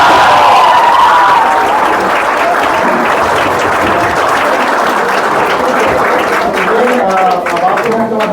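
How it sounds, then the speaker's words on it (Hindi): A class of students applauds loudly at a coaching batch launch event, dense sustained clapping and crowd noise filling over eight seconds, with some voices mixed in. "तालियां हो जाए बिल्कुल।"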